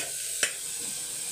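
Tomato masala for chicken biryani fries in a pan with a steady, soft sizzling hiss, broken by a single brief scrape of the spoon as it is stirred; no voices.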